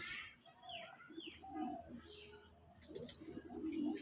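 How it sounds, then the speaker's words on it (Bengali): Sky-blue desi golla pigeons coo softly nearby in low, rolling calls mixed with faint chirps, all fairly quiet. "একজোড়া আকাশি কালার কবুতর নিয়ে আসলাম"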